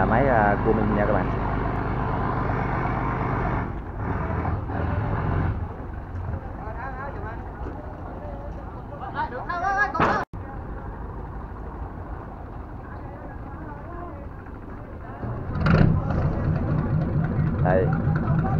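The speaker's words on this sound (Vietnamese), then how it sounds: "cái đò đây cũng nổ máy rồi" Engine of a Vietnamese river ferry starting up and running on a fast-flowing river near a harbor, a loud steady throb throughout with people talking over it and a brief cutout near the middle.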